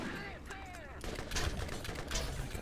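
Gunfire in the video game Borderlands comes in quick bursts of shots over game sound, close and fairly loud.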